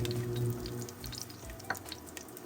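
Garlic sautéing in a pan for a rice dish: a soft continuous sizzle with a few stirring scrapes and a sharper clink, close by, with a low hum early on and no voices.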